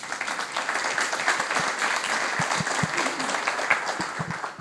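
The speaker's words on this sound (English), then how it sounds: "Please give them a round of applause" An audience at an innovation forum applauds the panelists at the close of a panel discussion, a sustained round of clapping from many people with a few louder individual claps near the end.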